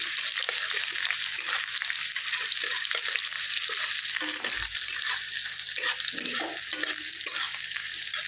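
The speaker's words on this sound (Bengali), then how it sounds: "পেঁয়াজটা হালকা ভাজা হয়ে গেল" Onions fry in a pan for a chickpea curry, giving a dense, steady close sizzle throughout, with a brief spoon knock and some stirring partway through and no talk.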